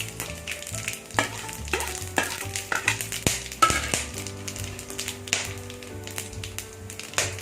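Whole spices tempering in oil over a low flame for mutton kuzhambu, a constant close sizzle with frequent metal taps and scrapes from stirring in the pan, and no one talking.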